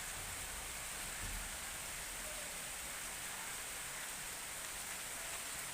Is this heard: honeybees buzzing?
no